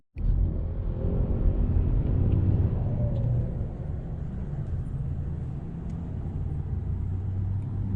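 Car driving on a highway, heard from inside as a steady low engine and road rumble after a sudden start, fairly constant throughout, no talk.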